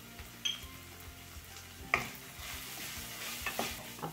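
Turmeric, red chili powder, coriander powder and cumin powder sauté in a pan, giving a soft sizzle under quiet stirring, with a few light clinks of a utensil against the pan.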